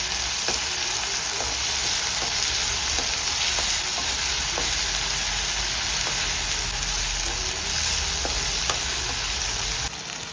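Chopped tomatoes fry with ginger garlic paste in a pan, a constant bright sizzle with faint scraping stirs ticking at intervals, steady and close with no talk.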